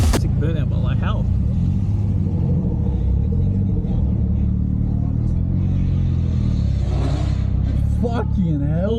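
A Mazda RX7 engine revs during a burnout on a busy Melbourne street, with a loud, steady, close rumble that climbs in pitch near the end while voices talk over it.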